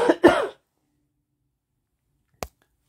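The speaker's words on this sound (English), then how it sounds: "And I apologize for constantly coughing." A single throat-clearing cough near the start, sharp and close, then near silence with one short click or tap a couple of seconds later.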